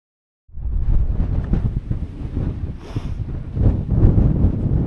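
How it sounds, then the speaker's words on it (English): Strong wind buffets the microphone on an exposed moorland summit at Back Tor in the Peak District, a loud, steady roar with gusting surges that starts abruptly and carries on without pause. "Woo, it's a windy one."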